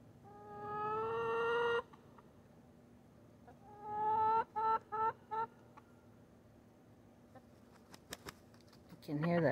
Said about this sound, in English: I can hear that other rooster across the field crowing.